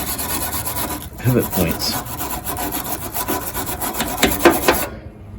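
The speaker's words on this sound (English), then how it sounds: "I just sat there and scrubbed it again." Someone scrubs grime and WD-40 out of the door catch on a Ford F100/F250 truck. The rubbing is repeated, rasping and close, with one brief spoken phrase near the end before it cuts off.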